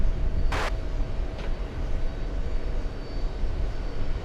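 JetBlue Airbus A320 jet aircraft heard as a steady, loud broadband engine roar throughout, with a short sharp click early on.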